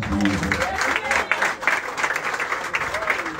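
Partygoers at an evening celebration clap and cheer in a lively, continuous round, fairly loud and close, with voices and a little music mingled under the applause.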